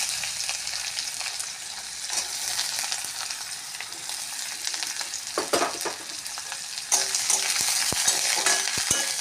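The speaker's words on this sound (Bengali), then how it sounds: "পেঁয়াজটা ভাজা ভাজা হলে" Onion fries in a karahi with black cumin and chilli, giving a constant sizzle. Clinks and scrapes of stirring come through, and the frying grows louder toward the end.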